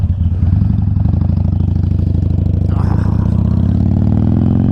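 A motorcycle engine runs loud and close, a continuous low, throbbing rumble that holds steady throughout with a slight rise near the end.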